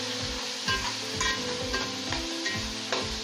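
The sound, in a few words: tomatoes and whole chillies frying in masala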